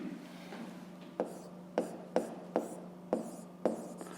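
A pen scratches on paper in short strokes, several distinct taps and scribbles spaced about half a second apart, close and quiet over a low steady hum.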